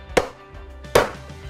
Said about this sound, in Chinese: 之后呢，我们就把辣鸭砍成块